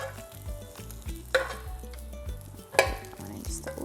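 Bacon frying in a pan, a steady crackling sizzle with a few sharper pops and clatters of a utensil, close and moderately loud, with no one speaking.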